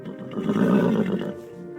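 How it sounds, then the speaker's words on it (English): A video game horse neighs in a drawn-out, wavering whinny, close and fairly loud, with no voices around it. "Thank you so much for being such a great horse tonight."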